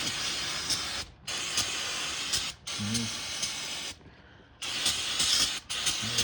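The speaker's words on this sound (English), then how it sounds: "I'll spray it all off with some brake clean" Bursts of steady brake cleaner spray hiss, close and loud, on the front brakes of an Oldsmobile Alero or Pontiac Grand Am, broken by a few short pauses, with a brief low murmur in between.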